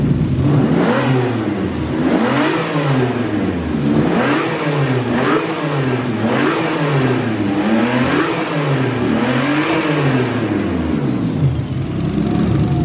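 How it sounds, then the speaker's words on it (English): A turbocharged BMW E36 engine with a Pulsar G30-660 turbo and intake filter revs repeatedly in smooth rising and falling surges, loud and close, with a whooshing intake note. "then we'll see what it sounds like with the filter on it."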